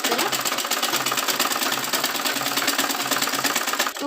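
A sewing machine runs steadily, stitching the side seams of a katori blouse, its rapid needle chatter close and loud with a faint rhythmic thump underneath, continuing without pause.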